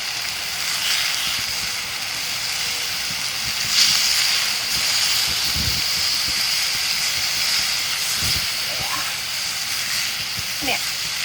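A chuck roast searing on a Blackstone griddle, with a steady, loud hiss and sizzle throughout and occasional spits and pops, while a person talks nearby.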